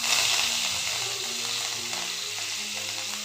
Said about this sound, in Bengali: এগুলোকে একটু ভালো করে কষিয়ে নেব।